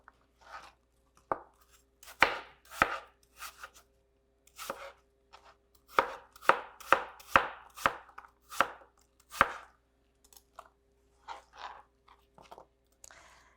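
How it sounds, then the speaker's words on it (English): An apple being chopped into small bite-sized cubes on a board, crisp close knife chops in irregular runs with short pauses, crunchy and loud against a quiet background. "your apple into equal size cubes. Little baby bite-sized ones so your kids don't choke,"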